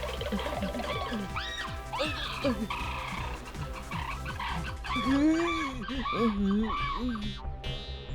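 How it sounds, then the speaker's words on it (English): A cartoon rooster crows in a string of rising and falling calls, loud and close, with clucking turkey-like gobbles mixed in and a brief burst of sound effects. "Rooster?"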